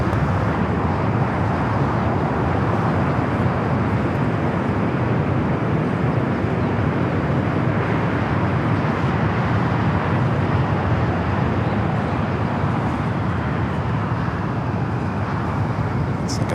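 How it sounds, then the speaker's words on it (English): A heavy Boeing 747 touching down at Los Angeles International Airport, a continuous loud, broad jet roar that holds steady and close throughout, with no pauses or breaks. "1218, heavy Boeing 747 touching down"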